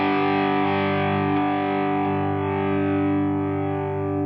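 A sustained distorted electric guitar chord on a Corsa LCPG, neck pickup full and bridge pickup slightly down, rings out thick and warm, steady and loud with a gradual slight fade.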